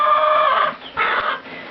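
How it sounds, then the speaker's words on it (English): A rooster in a backyard chicken coop gives a short, fairly close crow, followed by a couple of brief clucking calls. "I like to have a rooster around"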